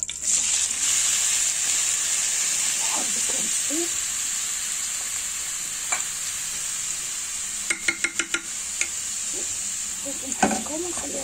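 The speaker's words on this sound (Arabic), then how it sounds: "ها هي البصله ديالنا، الزيت درتو يسخن مزيان، غادي نزيد عليها البصله" Chopped onions, about three of them, fry in well-heated oil, giving a steady close sizzle and hiss throughout, with a few sharp clinks of stirring near the end.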